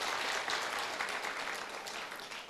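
Congregation applauding during a fasting prayer service at a GBI church in Malang, with dense, continuous clapping from many hands, steady and fairly close, tapering slightly toward the end.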